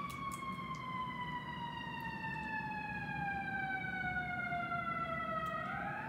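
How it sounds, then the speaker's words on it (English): A wailing siren sweeps slowly downward and holds steady over a low rumble of traffic, fairly distant and continuous throughout. "Got the sirens."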